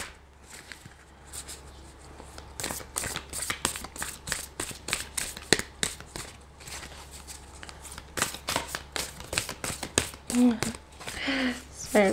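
Tarot-style cards shuffled and drawn for a reading, a long run of quick crisp riffling flicks and slaps close to the microphone, with a voice speaking softly between them.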